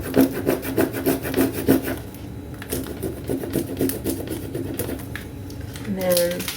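Rub-on transfers pressed and rubbed onto a journal page, a steady rapid rasping scrape repeating close up for several seconds, then easing off before a brief voice near the end.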